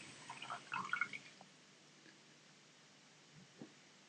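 About 100 ml of water poured into a beaker, a short soft splash and trickle followed by a couple of faint drips in a quiet room.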